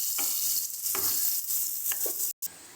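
Onions frying in oil for a prawn bhuna, a loud close sizzle broken by a few spatula scrapes as they are stirred, with a brief dropout near the end.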